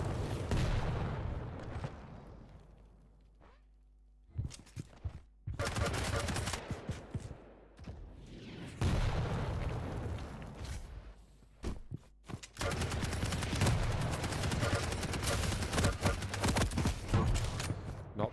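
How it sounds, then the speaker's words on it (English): Sustained light machine gun fire in a duel-style arena shooter, with long rapid bursts broken by short gaps and occasional heavier booms. Loud and close, with a commentator speaking over parts of it. "Not the heavy though, it's just the light machine gun"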